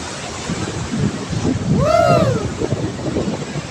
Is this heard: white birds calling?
no